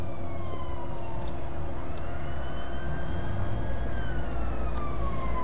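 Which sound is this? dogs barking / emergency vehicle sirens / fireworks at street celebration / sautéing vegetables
emergency vehicle sirens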